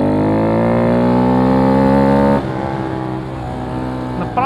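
A Honda Grom motorcycle rides through city traffic, its small engine holding a loud, steady note with rising pitch before easing off partway, then revving briefly again near the end; no one speaks.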